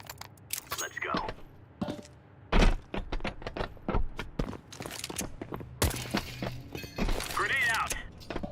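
In Counter Strike 2, a grenade is thrown and lands amid a busy mix of gameplay sounds: sharp clattering impacts, a heavy thump, and metallic rattles, with a voice speaking over the action.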